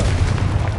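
The Confringo blasting spell in Hogwarts Legacy lands as a loud, close, rumbling boom that fills the whole short moment.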